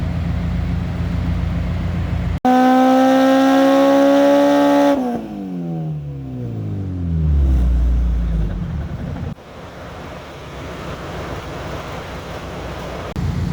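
An Acura RSX engine revs hard on a dyno during a tuning run, a loud rising wail that holds, then winds down through falling tones into a low rumble and settles to a steady idle; no one speaks.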